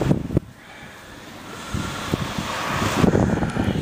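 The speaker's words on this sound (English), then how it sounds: "It's getting really windy" Strong wind roaring outside a house in Chicago during a 2011 blizzard, a broad steady rush that swells louder toward the end, heard alone with no voices.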